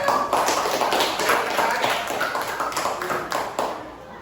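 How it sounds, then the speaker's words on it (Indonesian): A classroom of students bursts into applause for a classmate during a teaching-performance lesson in Indonesia, with steady, dense clapping from many hands lasting several seconds before gradually thinning out. "Kasih tepuk tangan untuk Ananda Sadar."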